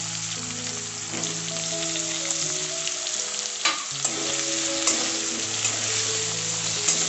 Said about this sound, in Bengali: আলুটাও একটু ভাজা ভাজা করে নেব